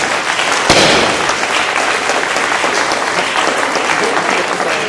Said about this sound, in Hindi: आपकी तालियों की गड़गड़ाहट के बीच